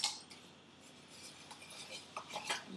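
A small teaspoon stirs raw sugar scrub with lemon zest and rosemary in a jar, giving quiet scraping and light clinks of metal against glass in an irregular rhythm.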